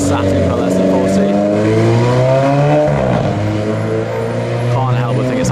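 A supercar accelerates hard on a city street, its engine note climbing loud and near, then dropping sharply at an upshift before rising again, with a person talking over it.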